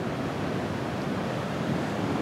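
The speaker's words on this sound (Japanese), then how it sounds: "今もまだね、水がどんどんとこの削れた部分に流れています。" Typhoon floodwater pouring steadily into washed-out ground beside a road where the asphalt and drainage channel have been undercut, a continuous loud rushing wash with no pauses.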